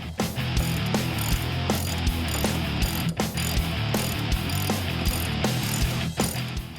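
A hand ratchet clicks in quick repeated strokes while loosening the main bolt on a 2015-2023 Mustang rear subframe, close and steady with brief pauses between swings.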